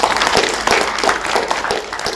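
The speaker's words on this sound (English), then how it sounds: "So let's give our panelists a round of applause." Audience applause for the panelists at a prison programs and reentry conference, a steady dense patter of many hands clapping close by for a couple of seconds.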